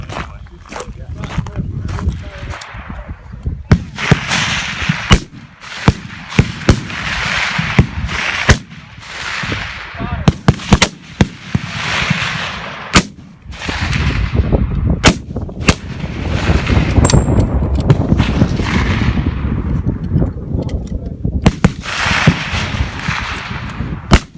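Rifle gunshots at a CMP Eastern Games shooting match ring out as a rapid, irregular string of sharp cracks, some close and loud, with steady range noise and outdoor ambience underneath.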